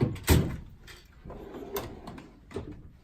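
A drawer on a Snap-on KRL722 tool box rolling open and shut at home, a few close sliding clunks and knocks spaced across a short, quiet stretch.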